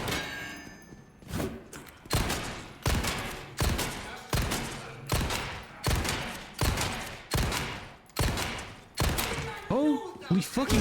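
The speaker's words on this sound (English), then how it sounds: "10 shots to the knees" Gunfire in the Resident Evil 4 Remake video game, about ten heavy shots fired one at a time at an even, unhurried pace, each with a booming decay, followed by a brief mechanical clatter at the end.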